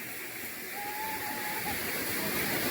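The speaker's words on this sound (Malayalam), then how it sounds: "അടിപൊളി വെള്ളച്ചാട്ടമാണ് ഇത്." A powerful monsoon waterfall at Aruvikuzhy crashes over rocks, making a steady, loud broadband roar that holds evenly and swells slightly toward the end, with no clear voices.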